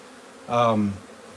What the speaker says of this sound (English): we'll keep scooping these bees in there